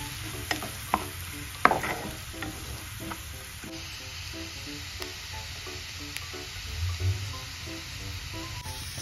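Onions and green chili frying in hot oil in a pan, a faint steady sizzle with scattered spoon clinks and stirring scrapes, a couple of sharper knocks near the start.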